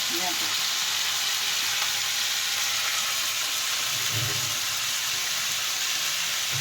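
Tomato and shrimp frying in a hot pan, a steady loud sizzle and hiss filling the whole stretch with faint stirring bumps underneath.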